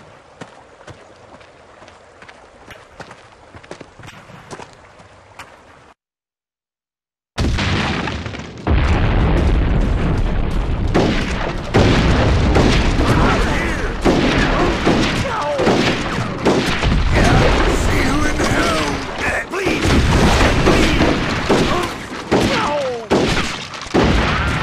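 Artillery barrage against the Yankee army in the video game Red Dead Revolver: after a quieter stretch and a brief silence, relentless loud booms and rapid gunfire blasts erupt and pound on continuously.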